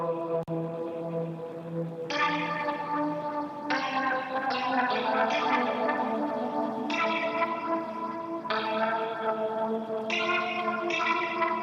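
A processed guitar one-shot pattern, built in FL Studio for a Russian post-punk beat, plays as a steady sequence of bright, reverberant chord hits with echoing tails that blend into one another. It is loud and close, with no voice over it.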